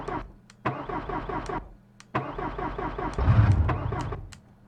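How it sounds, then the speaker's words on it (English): An old squarebody pickup truck's engine in the BeamNG Drive game cranks in two long whirring bursts of starter churn, separated by a short pause, the second ending with a brief rumble as it nearly catches; no talking. "let's go ahead and crank this thing, see if we can start it up"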